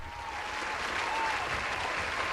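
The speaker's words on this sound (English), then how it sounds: "Big applause for Seth Word here" Steady applause from a studio or live audience at a lunchtime talk show, a dense, even wash of clapping held at a constant level throughout, with no voices heard over it.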